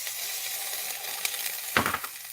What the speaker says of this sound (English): get a nice little sizzle.